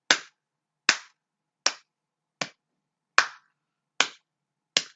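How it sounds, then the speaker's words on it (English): Seven sharp, isolated hand claps ring out at an even pace, roughly one every eight-tenths of a second, each crisp and close with a brief decay into silence. "Just the claps."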